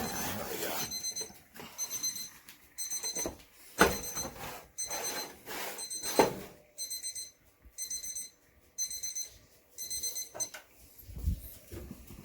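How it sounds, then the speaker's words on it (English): Kitchen timer alarms beep together in a home kitchen while banana bread bakes, repeated bursts of sharp electronic beeping in an irregular rhythm, with clatter and movement in between. "All the alarms are going off."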